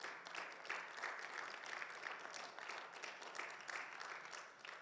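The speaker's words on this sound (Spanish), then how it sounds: "le dan un fuerte aplauso al Señor" Steady applause from a large church congregation during a Bible class, dense and continuous throughout, heard from a moderate distance.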